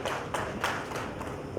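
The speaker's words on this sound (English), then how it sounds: "a round of applause for Dr." Audience applause for a panel speaker at a South Asian cities summit session on water and cities, a steady wash of clapping across the whole moment with no pauses and no voices over it.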